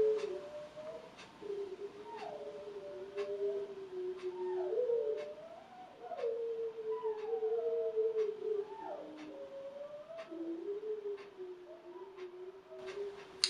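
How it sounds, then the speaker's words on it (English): Several dogs howl together indoors in long, wavering, sliding tones that rise and fall continuously, fairly close and steady for over ten seconds with no talking. "my dogs want to howl and sing and cut up"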